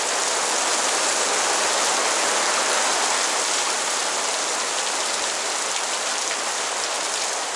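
Heavy rain drums steadily on the roof of a Ford Transit MK1 camper van during a holiday in Denmark, a dense, loud, unbroken hiss with no voices.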